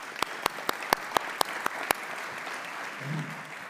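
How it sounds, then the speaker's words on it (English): At a police and fire awards meeting, one person claps sharply and close to the mic about eight times in an even rhythm. A softer, broader patter of applause continues beneath before fading. "We'd like to applaud you."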